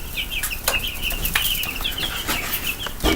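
Chickens flap their wings in quick bursts while birds chirp and cluck in short, high calls close by.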